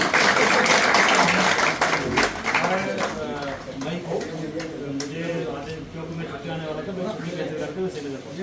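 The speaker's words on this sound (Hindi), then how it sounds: "हमें ताली जरूर बजानी पड़ेगी" A crowd at a Kargil Vijay Diwas ceremony claps briefly at the start, a short dense burst that fades quickly as someone speaks over and after it.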